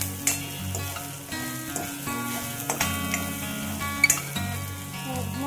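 Food with salt sizzles and fries steadily in a pan, a continuous close crackle with occasional stirring and light clinks of a utensil against the pan, no talking.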